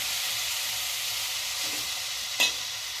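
Chopped white radish and tiny shrimp fry in a pan with a steady, close broadband sizzle, broken by a brief louder scrape of stirring near the end; no one speaks.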